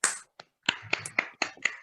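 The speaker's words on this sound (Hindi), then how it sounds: "इन दोनों के लिए पहले एक जोरदार ताली हो जाए" Scattered hand claps from a small audience at a motivational talk by a woman entrepreneur, about seven sharp separate claps spread over two seconds, close and moderately loud with no voices.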